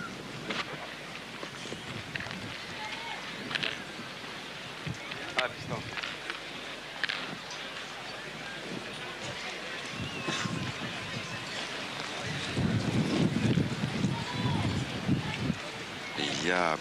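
Strong wind roars at an outdoor pétanque match in 1999, a steady, loud broadband rush and buffeting against the microphone that swells near the end, with voices talking underneath.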